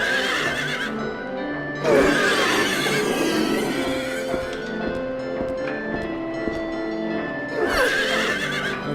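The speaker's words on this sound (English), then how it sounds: "I'm just meant to just massacre these horses that are attached onto meat hooks" Horses hanging on meat hooks in Silent Hill 3 let out repeated strained, eerie whinnies over a droning, metallic industrial ambience, with loud neighing bursts recurring every few seconds.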